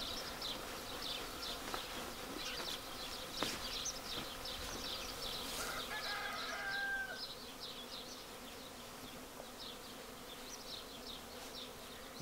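A honeybee swarm of roughly two to two and a half frames' worth hums steadily outdoors, a dense, continuous buzz with individual bees flitting past close by, holding at a fairly even level throughout.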